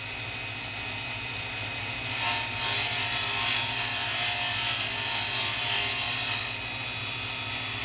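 Steady high grinding hiss from a diamond dresser on an XY slide truing the wheel of a miniature Sherline CNC cam grinder, loud and continuous, swelling slightly midway over a low motor hum.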